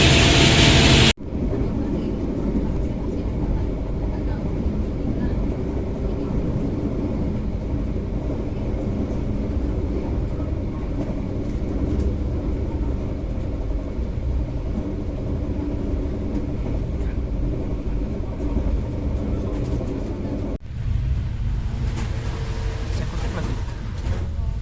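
Steady low rumble and clatter inside a moving Brantas executive-class passenger train travelling from Tulungagung to Bekasi, continuous and loud throughout, with a brief change in tone near the end and faint background voices.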